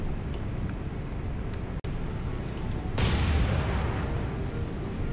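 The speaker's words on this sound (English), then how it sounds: "Make sure secondaries are also firing high explosive." Warship secondary guns firing high-explosive rounds in War on the Sea during a naval battle off Guadalcanal: a heavy boom bursts out partway through over constant engine and sea rumble.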